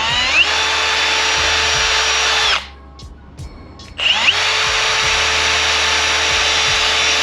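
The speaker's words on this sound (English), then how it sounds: "Got the first holes drilled out." A power drill drilling holes in a Type R car's console whines steadily at high speed, cuts out for about a second and a half, then spins up again and keeps running.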